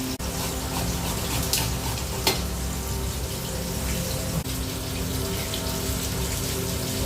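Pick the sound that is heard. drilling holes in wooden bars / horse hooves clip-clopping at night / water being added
water being added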